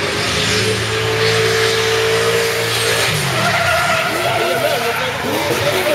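Naturally aspirated drift car at an airport race in Östersund, its engine revving and tires squealing through a long skid, loud and continuous, with a voice talking over it.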